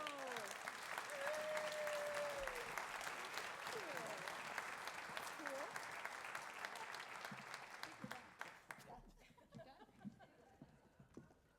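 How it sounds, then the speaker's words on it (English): Applause from a large audience at an annual chamber awards celebration, steady dense clapping with faint voices and whoops that gradually fades toward the end. "Please give both Ben and Stephanie a huge round of applause"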